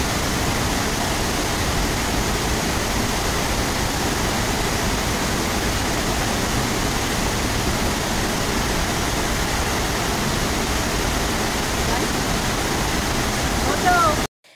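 Steady, loud rushing roar of a waterfall in Bali, its brown, muddy water pouring continuously and filling the scene with a broad, unbroken wash of noise that stops abruptly at the very end.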